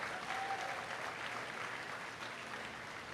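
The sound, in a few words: applause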